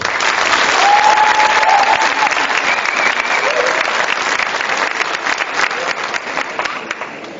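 An indoor theatre audience gives sustained applause for the young set designers from the Accademia di Napoli, a loud, dense clapping that holds steady and then gradually thins out toward the end.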